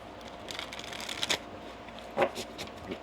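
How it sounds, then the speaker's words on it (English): Tarot cards are shuffled quietly in a few soft riffling bursts, close and faint, with brief pauses between. "One more shuffle."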